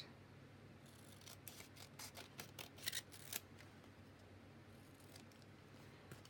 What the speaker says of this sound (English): I'll just trim that top off because it's a little bit too tall. So we'll cut that.